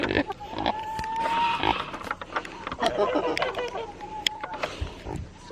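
A pig grunts and snuffles up close, with people talking and cooing over it in the background.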